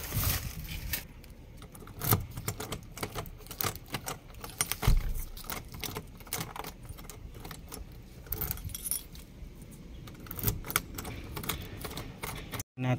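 Bunch of keys jangling and clinking repeatedly at close range as a key is pulled out of a hard-to-open lock, with irregular metallic rattles throughout and no talking.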